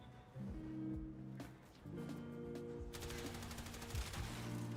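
Gunfire in a shooter video game: rapid bursts of shots crack over a sustained tonal game soundtrack, fairly quiet and with no talking.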